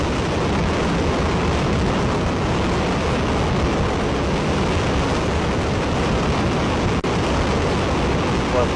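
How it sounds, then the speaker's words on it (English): Ares 1 first stage five-segment solid rocket motor firing in a static test, a steady, dense, unbroken roar at full loudness throughout with one brief dip near the end. "We have ignition of the Ares 1 first stage 5-segment solid rocket motor."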